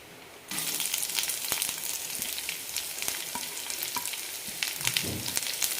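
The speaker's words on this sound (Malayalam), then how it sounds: "പരിപ്പുകൾ ചെറുതായി ചോക്കുമ്പോൾ സവാള ഇടാം" Sliced onions hit a pan of frying lentils and set off a sudden burst of loud sizzling. The crackling continues steadily with occasional stirring clatter, and no one speaks.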